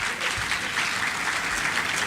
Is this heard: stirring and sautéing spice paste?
no